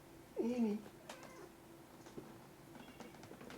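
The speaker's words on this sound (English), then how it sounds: "I also have a cat mewing on my end." A cat gives one clear meow near the start, followed by quieter, softer vocal sounds and faint background noise.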